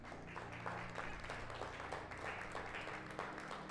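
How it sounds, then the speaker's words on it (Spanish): A church congregation applauds the Lord during a Spanish-language sermon, a soft, distant wash of many hands clapping steadily for a few seconds over a low background hum. "¿Cuántos le pueden dar un aplauso al Señor?"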